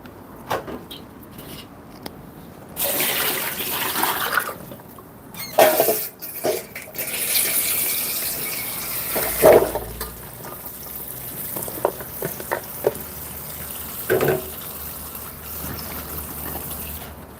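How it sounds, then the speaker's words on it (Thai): Vegetables are rinsed under running water in a kitchen while cooking a Thai jungle curry, a steady splashing hiss of the stream with clattering handling and bursts of louder sloshing throughout. "ล้างผักแป๊บหนึ่งนะคะ"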